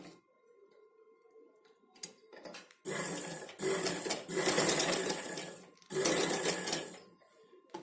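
A sewing machine stitches folded blouse cloth into petal shapes, running in three loud bursts of steady whirring with short pauses between, after a quiet start with faint handling.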